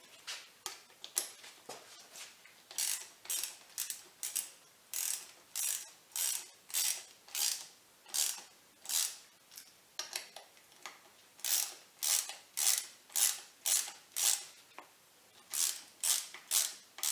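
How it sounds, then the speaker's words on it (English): A ratchet wrench cinches down the throttle assembly on Honda XR100 handlebars, giving a long run of quick, evenly spaced metallic clicking bursts, close and crisp, with brief pauses between strokes. "Go ahead and cinch down our throttle assembly."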